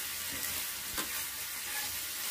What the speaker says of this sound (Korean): 계속해서 뒤적여 주세요.